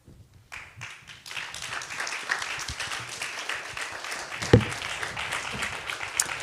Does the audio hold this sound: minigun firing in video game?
no